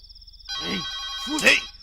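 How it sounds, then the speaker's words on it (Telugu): A telephone rings steadily with a high electronic tone while a person speaks over it. "ఫోన్ ఇంకోతుందిరా"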